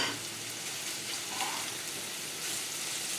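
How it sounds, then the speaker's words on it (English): Diced pork frying in a pot, a dense, steady sizzle with no talking, loud and close throughout. "Now this pork should cook very quickly"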